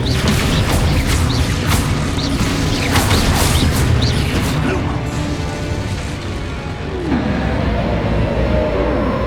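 Spell blasts from the Hogwarts Legacy video game, with Expulso, Confringo and Descendo cast in combat. Loud, dense booms and crashes follow one another over a busy rumbling background for the whole stretch, with a short dip near the end.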